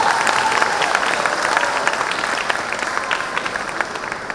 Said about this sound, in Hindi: एक छोटा सा ताली आवाज कुछ तो करो।